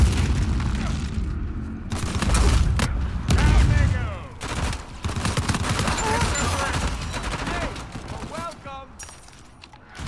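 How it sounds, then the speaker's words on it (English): Teammates in Uncharted: The Lost Legacy open fire in dense, rattling bursts of automatic gunfire with booming impacts, loud and continuous, with voices talking over the shooting. "I wish my own teammates would quit shooting at me"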